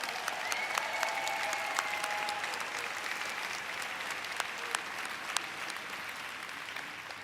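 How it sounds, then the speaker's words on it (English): Steady audience applause for Dr. Myron Wentz, USANA's founder and chairman emeritus, fills the hall at moderate volume with dense, even clapping and a few sharper claps standing out, sustained throughout without speech. "A big round of applause for Dr."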